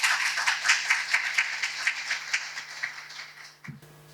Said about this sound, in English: Please greet with excellent applause Dr. Aleksandra Martinovic.